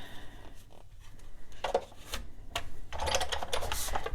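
An embossing machine pressing wax paper and cardstock makes a series of close mechanical creaks, rubs and clicks, growing louder and denser toward the end, with no speech.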